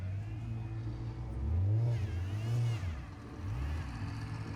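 Suzuki 4x4 truck in an extreme off-road challenge, its engine revving in three close rising-and-falling surges over a steady idle, loud and near.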